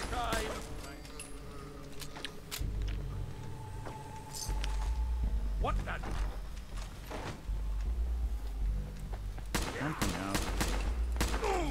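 Bursts of gunfire ring out in the Fallout 4 video game, sharp shots scattered across the clip with louder clusters near the end, over game ambience and occasional talk.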